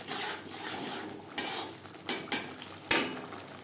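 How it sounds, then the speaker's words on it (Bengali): A spoon stirs salt and ground spices into a jackfruit curry in a pot, with a faint scraping texture broken by several sharp clinks against the pan. "স্বাদ মতো লবণ মশলার সাথে গুঁড়ো মশলা বেশ ভালো করে মিক্স করে দেবো"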